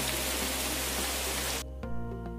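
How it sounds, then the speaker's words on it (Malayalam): Heavy rain pours in a loud, dense hiss for over a second and a half, then cuts off abruptly, leaving a quieter background with a low steady hum and faint scattered ticks. "നല്ല സൂപ്പർ മഴയാണ്."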